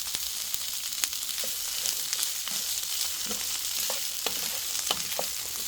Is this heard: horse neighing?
no